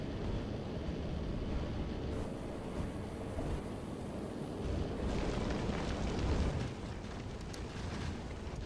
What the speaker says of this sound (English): Those long-range rocket launchers rule in this one.